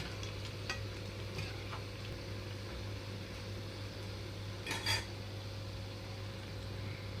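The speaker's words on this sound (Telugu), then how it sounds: "రెండు వైపులకి తిప్పుతూ మధ్య మధ్యలో చక్కగా వేయించుకోవాలి వీటిని" Onion pakodi fry in oil and are turned over, producing a faint, steady sizzle under a low background hum, with a few quiet scrapes and a brief louder stir.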